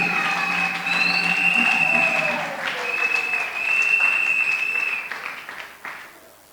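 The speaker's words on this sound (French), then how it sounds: "acclamez pour le Saint-Esprit" A church congregation applauds for the Holy Spirit, sustained loud clapping from many hands filling the room, with a bright electronic tone and voices under it, fading at the end.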